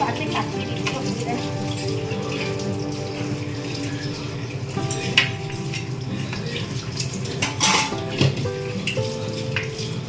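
Gulab jamun frying in a pan gives a bubbling, watery sizzle with occasional clatter, and a voice talks intermittently over it.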